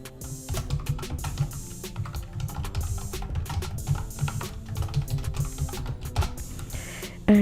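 Computer keyboard keys are typed quickly and steadily, a dense run of close, crisp clicks with brief pauses and no talking, as a collection title is entered in Shopify.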